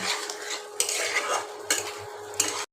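Badshahi chicken, with a paste of cashew, poppy seed and melon seed, sautés in a pan while a metal spoon stirs and scrapes against it. Steady sizzling is broken by a few distinct scraping strokes, close and clear, with no talk.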